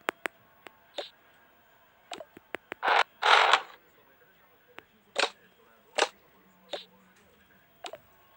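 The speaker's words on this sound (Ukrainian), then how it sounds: "Двері не відкриваються." A stuck door creaks and clicks as someone tries to open it. Sharp latch clicks alternate with short creaking strains and a longer drawn-out groan, all close by.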